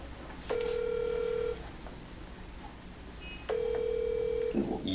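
A telephone rings unanswered on a live call-in broadcast, two long electronic ring bursts separated by a pause of near silence, clear and fairly loud.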